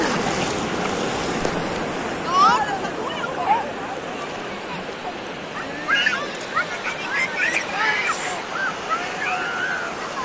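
Sea waves surge at Bertioga beach in São Paulo, a continuous rushing wash of surf with louder swells near the start and toward the end, while people's voices rise faintly through the noise.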